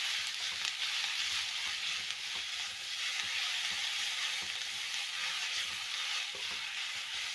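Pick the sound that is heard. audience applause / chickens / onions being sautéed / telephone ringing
onions being sautéed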